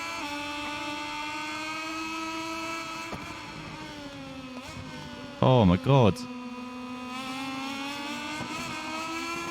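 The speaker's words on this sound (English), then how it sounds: "we need to go down 2 gears because we need the engine braking to stop the bike there" A MotoGP 21 racing game motorcycle engine drones at a steady high pitch, then dips as it downshifts with a couple of brief, sharp rev blips in the middle, and one short exclaimed voice.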